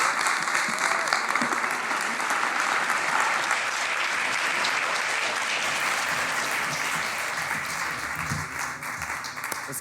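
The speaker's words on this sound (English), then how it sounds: "Please give our panelists another round of applause." A panel audience applauds at a live event, a dense, sustained wash of clapping from a crowd, loud and even throughout, with a few voices faintly mixed in.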